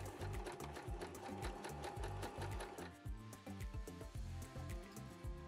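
A sewing machine top-stitching down a double-folded fabric strip for an upcycled cargo mini skirt, its needle chattering in a fast, close, steady run of rapid strokes.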